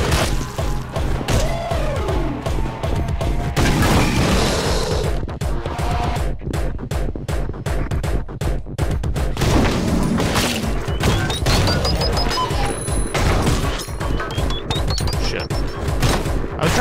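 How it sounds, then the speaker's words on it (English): Rapid gunfire and explosive booms from the action video game Anger Foot, with dense bursts of shots, crashes and thuds running continuously and loudly throughout. "Is he shooting me from the toilet?"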